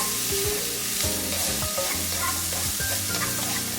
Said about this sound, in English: Now that the butter is nice and melted, we're adding the mushrooms.